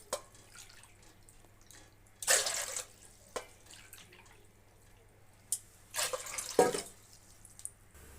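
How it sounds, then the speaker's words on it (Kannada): Water is poured into rice flour in a home kitchen while making rice papad: two short, quiet splashing pours with faint drips between them in an otherwise still room. "2 ಬಟ್ಲು ಅಕ್ಕಿ ಹಿಟ್ಟಿಗೆ 4 ಬಟ್ಲು ನೀರು ಹಾಕೋತಾ ಇದ್ದೀನಿ"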